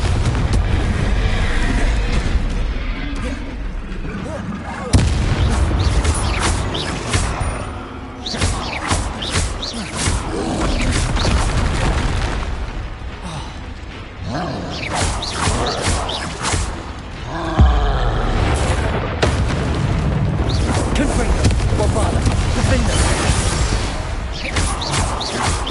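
Confringo and Bombarda spell blasts from the Hogwarts Legacy video game thunder as loud, deep booms and explosive bursts, landing in quick succession over a rumbling, dense game soundscape.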